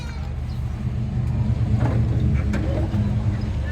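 A car's engine idling, a turbo model freshly arrived from Japan, a steady low rumbling hum heard close up and continuous, with faint background noises over it.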